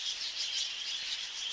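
Birds chirping in The Last Door 2 video game, a steady, faint high twittering with rhythmic pulses and no voices.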